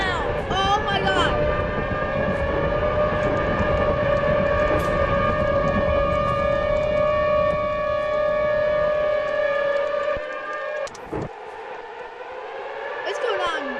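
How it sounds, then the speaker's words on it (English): Tornado warning sirens wail steadily during an outbreak of three tornadoes, a long sustained rising and falling tone that carries across open ground, with excited voices exclaiming over it throughout. "I can hear the sirens."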